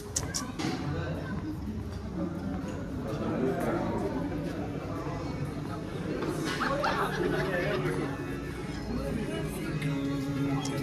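Outdoor ambience at a breakfast restaurant entrance in Shimla: steady crowd chatter and murmuring voices from passers-by, with occasional clatter and distant background bustle, moderately quiet and continuous.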